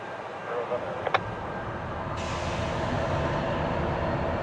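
CN iron ore train U-745 rolling on the Marquette Range subdivision near Gladstone, a steady broadband rumble that builds and holds loud through the end, with a brief higher squeal early on.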